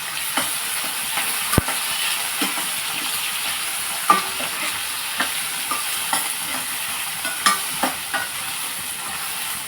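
Onions and green chillies fry in a pan for an anapakaya curry, a soft continuous sizzle dotted with sharp taps and scrapes from stirring at irregular intervals, close and without speech.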